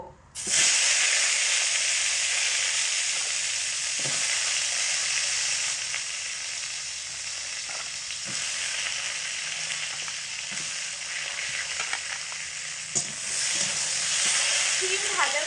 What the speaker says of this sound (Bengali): একই তেলের মধ্যে সিমের পিসগুলোকে দিয়েও ভেজে নেব